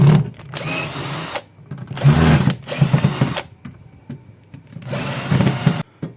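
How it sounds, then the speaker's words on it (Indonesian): Blunt hand saw being sharpened with a wire grinding wheel on an angle grinder, several loud whining bursts of a second or so, separated by short pauses. "Langsung aja kita asah menggunakan kawat gerinda."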